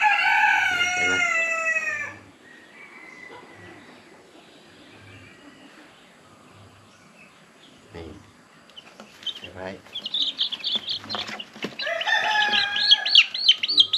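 High-pitched Cochin chicks peeping close by in bursts at the start and again toward the end, with a quieter stretch in between.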